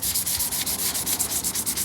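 Hand sanding on the hatch of a Nissan 300ZX during body prep for paint, a close, loud rasping rub in quick even back-and-forth strokes, about eight passes in under two seconds with no voices.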